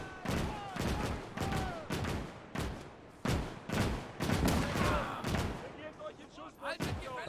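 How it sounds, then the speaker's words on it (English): Heavy gunfire in a World War II video game mod, with repeated sharp loud bursts of shots in a rough irregular rhythm and short gaps between them, fading toward the end. "unfortunately we got machine guns supporting the Germans already on the other side"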